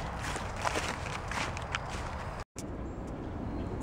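Steady crunching footsteps on dry leaves, close and continuous, with a brief dropout partway through.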